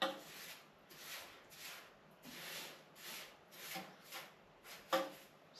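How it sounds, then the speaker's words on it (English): Sand spread by hand into a slope inside a low-budget paludarium built for bladder snails: a series of soft, close scraping strokes in a steady rhythm, quiet and with no talking. "Now what I want to do is aim for this slope that I mentioned before. By simply distributing the sand here."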